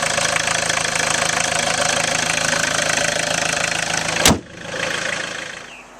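A steady, rumbling diesel idle with a knocking chug fills the clip, then a sharp click cuts it to a softer hum.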